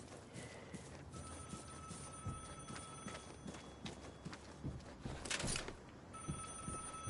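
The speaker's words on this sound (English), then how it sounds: "You hear the phone ring, that's because of me." Telephone ringing in the survival shooter game Vigor: a high, steady electronic ring sounds in two bursts, one long and one brief, over scuffling, clattering footsteps and movement noise, fairly quiet overall.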